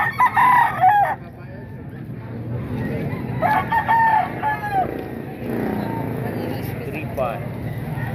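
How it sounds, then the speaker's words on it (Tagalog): A rooster crows twice, close by, with clucking hens and someone talking in the background and a vehicle passing, at a market in Baliwag, Bulacan. "Manok dito sa Baliwag, Bulacan"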